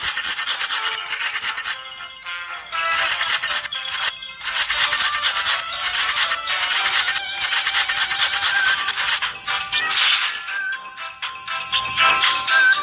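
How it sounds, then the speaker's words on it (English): Pizza ingredients are grated in a Masha and the Bear cooking game, a bright, close scraping rasp repeated in quick rubbing bursts with short pauses between them. "Now, let's prepare the ingredients. We need to grate this."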